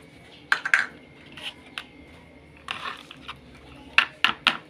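Ingredients tipped into a bowl while cooking, with a few clinks of utensil and dish scattered across a quiet kitchen: a short burst early, another in the middle, then three sharper clatters near the end.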